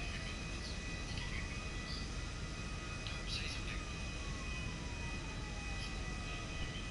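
Jet aircraft engine in the video game GTA 5 Online, a steady whining drone with a slowly sliding tone running under faint game sounds for the whole stretch, with quiet voices now and then.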